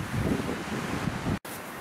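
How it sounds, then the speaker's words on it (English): Strong wind gusts through a forest, roaring steadily and close against the microphone. Broadband rushing fills the whole moment, with one abrupt split-second dropout near the end. No voices. "try to get out of this wind"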